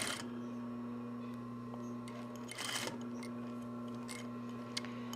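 An industrial sewing machine box-tacks a shoulder bag with a quiet, steady mechanical whir and fine stitching ticks. A brief louder rattle comes partway through before the run continues.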